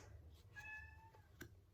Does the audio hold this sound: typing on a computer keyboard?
no